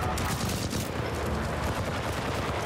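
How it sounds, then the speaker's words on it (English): Sustained, loud automatic fire from the Flatline rifle in Titanfall 2, a dense unbroken burst of rapid shots with no talk over it. "the flatline sounds like a good gun"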